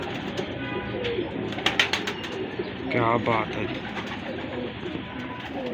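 An old pigeon coos a few times in a rolling burst amid other birds chirping, with someone talking nearby over steady background noise.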